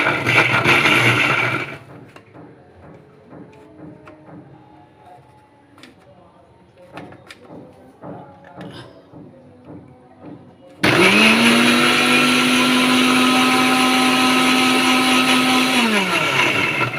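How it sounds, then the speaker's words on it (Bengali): Electric kitchen blender whirring loudly and steadily for about six seconds, blending raw green mango with green chili, black salt and sugar into a sweet juice, after quieter kitchen clatter and a short earlier burst. "চিনি এখন আমি ব্লেন্ড করে নেব।"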